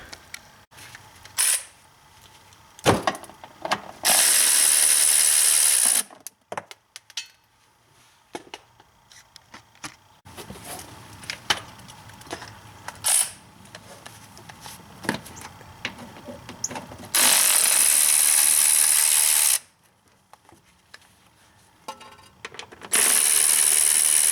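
Ratchet wrench loosening 8 mm fasteners on a BMW 3 Series windshield and headlight washer pump: close, scattered metallic clicks and clatter, broken up by several loud, sustained harsh bursts, with no talking.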